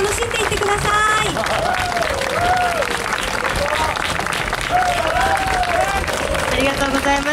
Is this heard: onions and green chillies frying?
no